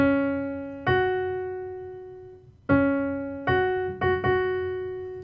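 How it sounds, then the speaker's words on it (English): Plucked or struck tonal notes forming a perfect fourth ring out one after another, a lower pitch then a higher one, each sustaining and fading, clear and close with no talking. "Perfect fourth would sound like this."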